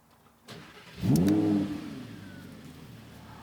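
A 2016 Audi R8 coupe's 5.2 litre V10 fires up with a click and a sharp, loud rev flare, then settles to a steady idle close by.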